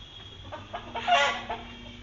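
Chickens on a farm cluck in a quiet, uneven series of short calls, rising to a louder drawn-out squawk near the middle, fairly soft and close with no voices.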